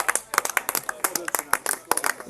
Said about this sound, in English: Here come the Coventry United players applauding the fans as they come up.